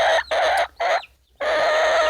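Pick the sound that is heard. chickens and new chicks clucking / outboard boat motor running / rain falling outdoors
chickens and new chicks clucking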